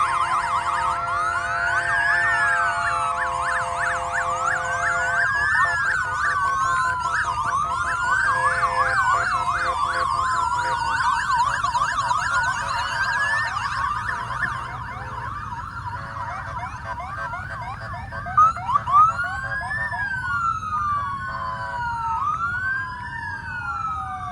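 Torrance police motorcycle sirens pass in an Armed Forces Day parade in Torrance, California: several overlapping wailing and yelping sirens, loud and continuous for the whole stretch, with engine rumble underneath and no talk.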